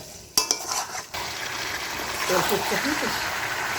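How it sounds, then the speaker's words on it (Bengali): Oil sizzles and crackles steadily in a pan for cooking duck meat, after a couple of sharp metallic clinks near the start. "তেল ফুটছে।"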